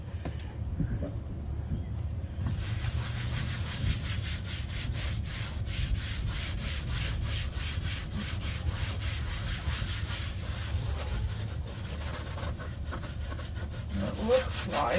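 A little scrub pad with Dawn dish soap scrubs the vinyl seat of a 2008 Club Car Carryall golf cart in steady, rough back-and-forth rubbing strokes, close up and continuous throughout.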